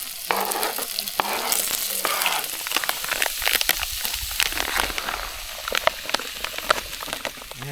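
Onions sizzle steadily in a cast iron pan over an outdoor fire, with constant frying hiss and repeated sharp scraping and stirring clatter close by, and no talking.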